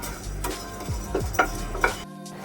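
Urad dal, chana dal and toor dal dry-roast in a pan over a low flame, stirred in a few scraping, rattling strokes against the metal, quiet and close, ending in near silence.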